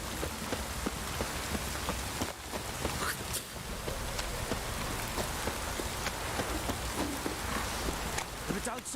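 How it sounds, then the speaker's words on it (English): Steady rain falls on surfaces in The Witcher 3, a dense, even patter of drops with scattered louder splashes, continuous for the whole stretch. "If it don't stop raining"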